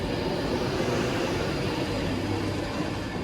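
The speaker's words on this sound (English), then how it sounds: "Departing now is the 11:59 Avanti West Coast service to London Euston." An Avanti West Coast Class 390 electric train pulls out of a station bound for London Euston, a loud, steady, close rumble and whine filling the whole stretch with no voices.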